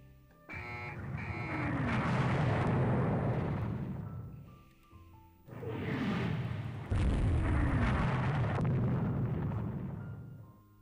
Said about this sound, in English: Yes, I know you appear to be dying because we hit you with missiles.